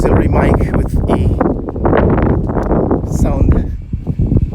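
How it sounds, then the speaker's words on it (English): Gusty wind buffets a microphone outdoors beside a hotel building, a loud continuous rumble with rustling bursts throughout. "It's kind of windy today. I don't know if you can hear the wind."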